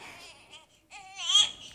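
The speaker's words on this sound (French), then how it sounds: "l'enfant est en train de pleurer" A young child cries in short, wavering bursts with brief pauses, fairly close and rising louder toward the end, with no other talk.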